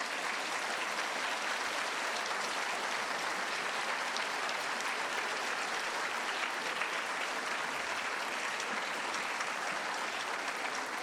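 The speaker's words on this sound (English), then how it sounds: "further round of applause for Lord Lieutenant Alex Scott" Sustained applause from an audience at a school's 60th anniversary celebration, an even wash of many hands clapping, steady and somewhat distant, with no voices breaking through.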